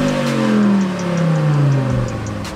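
An Audi TT RS with its stock exhaust revs loudly nearby, the engine note rising and falling in smooth sweeps with a steady rumbling drone underneath.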